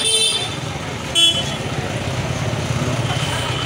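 Crowded road traffic near a waterfall and temple outside Jaipur during a fair-like gathering, a steady engine and road rumble with a brief car horn toot, while someone talks.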